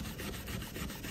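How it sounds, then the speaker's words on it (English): Steel wool scrubs layers off an artwork in quick, rough back-and-forth rubbing strokes, close and moderately quiet in a brief burst. "I've got some steel wool that I'm sort of scrubbing some of this off."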